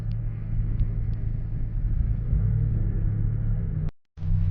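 Slow road traffic heard from inside a Honda Brio on a car-club drive held up by a broken-down truck, a steady low engine and road rumble that cuts out briefly near the end.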